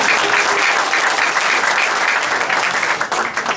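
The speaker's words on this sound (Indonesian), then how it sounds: "Tepuk tangan gitu loh." A large church audience in Samarinda claps loudly during a 2014 sermon, a thick, continuous roar of applause from many hands that stays strong throughout with only a brief dip toward the end.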